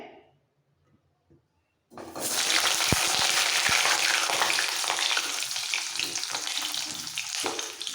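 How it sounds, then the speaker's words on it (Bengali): Pointed gourd drops into smoking-hot oil, bursting into a loud, sustained sizzle after a quiet start, with a couple of sharp clinks of a utensil early on. "তেল থেকে ধোঁয়া ছেড়ে দিয়েছে এবার দিয়ে দিচ্ছি পটল একদম মাছ ভাজার মতো করে তেলটা গরম করতে হবে"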